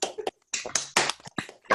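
Remote participants on a video call clap through their microphones in short, uneven bursts of sharp claps with brief silent gaps between them.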